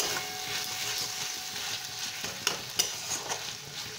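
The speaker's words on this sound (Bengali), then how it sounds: "লাল লঙ্কা গুঁড়ো দিয়ে দিয়েছি, মিশিয়ে নেব পুরোটা।" Red chili powder being stirred into masala frying in oil, a soft steady sizzle with scraping spoon strokes and a couple of sharper clinks near the end.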